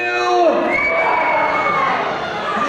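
A theater audience at a live Universal Studios Hollywood stage show in 1991 yells and cheers loudly all at once to volunteer as Klingons, a dense sustained crowd roar with higher shouts standing out.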